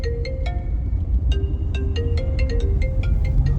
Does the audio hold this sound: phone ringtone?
yes